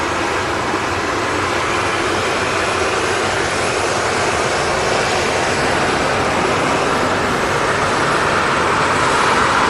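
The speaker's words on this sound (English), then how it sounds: "And here she is, the Turkish Airlines A330. Looks like she'll be next to take off." Turkish Airlines Airbus A330 jet engines roaring steadily at Manchester Airport, a continuous broadband rumble that holds loud and even throughout with no break.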